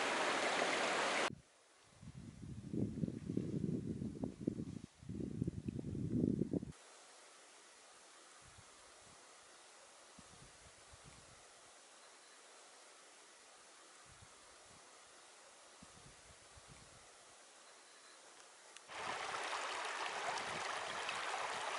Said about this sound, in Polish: Tej rzeki nie zauważyłyśmy na mapie, ale nie jest zła.